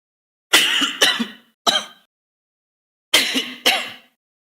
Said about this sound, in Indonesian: Batuk-batuk nih.